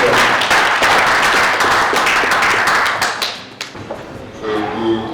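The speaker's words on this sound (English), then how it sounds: "Please give a clap of hand to our lecturers" Dense applause from a crowd fills most of the clip, then thins out toward the end as a few scattered claps linger.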